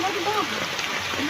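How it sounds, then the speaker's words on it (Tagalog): Rain pours steadily outdoors in Antipolo while marang fruit is being picked, a constant hiss of falling water with a voice speaking faintly over it. "Nabot tayo ng ulan."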